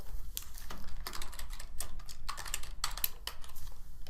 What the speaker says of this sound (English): within it we could type some text